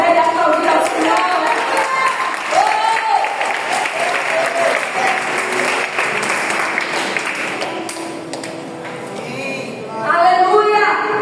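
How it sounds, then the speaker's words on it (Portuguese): Congregation applauding in praise of the Lord at a church service, sustained dense clapping from a crowd filling the whole stretch, a voice faintly heard within it and a fresh burst near the end. "Aplaudir a ideia, aplaudir ao Senhor."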